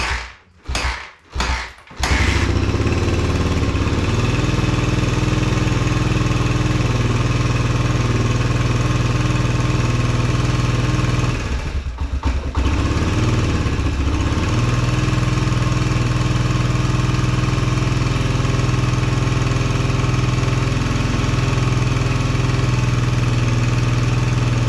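A 2021 Suzuki DRZ 125 motorcycle engine with freshly rejetted carburetor runs steadily near the mic, starting after a few brief sputtering revs and holding a low, even idle with one short dip midway.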